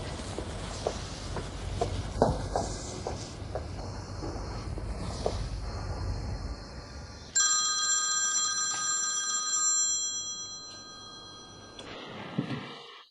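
A telephone rings with a steady electronic ringtone, loud and close, sounding in a sustained bright burst after a stretch of footsteps and room noise.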